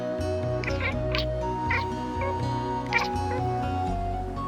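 Gull-like bird calls drift over a steady tonal musical bed in a seaside JRPG scene, several short squawks rising above the sustained background.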